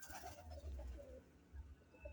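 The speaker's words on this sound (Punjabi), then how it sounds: "ਦੋ ਕਬੂਤਰ ਉੱਤੇ ਗੁੜਕੀ ਜਾਂਦੇ ਆ" Low, throaty pigeon coos in repeated soft bursts, close by, with a faint hiss of background noise.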